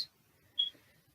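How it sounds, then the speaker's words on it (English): Scissors trimming fabric for a homemade yarn bag, one faint snip at the start and a sharper metallic cut about half a second later, close and quiet in an otherwise still room. "Trim it with the scissors."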